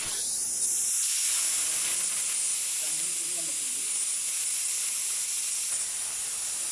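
A pressure cooker cooking tapioca vents steam in a loud, sustained high hiss that holds steady for several seconds and eases slightly near the end, with faint background sounds underneath.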